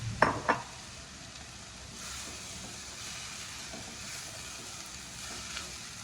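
Tomatoes go into a hot pan for plant-based marinara, with a couple of quick clatters at the start followed by a faint, steady sizzle and hiss that carries on alone.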